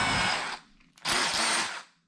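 Cordless drill with an 11/32 bit drilling out the center of a shower head, two loud whirring bursts close by separated by a brief pause.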